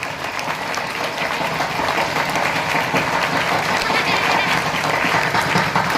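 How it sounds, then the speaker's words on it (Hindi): An assembled audience at a Brahma Kumaris spiritual gathering claps both hands loudly in sustained applause, a dense, even wash of clapping that holds steady and swells slightly throughout. "जोर से दोनों हाथ की तालियां बजाकर इनका सम्मान कीजिए"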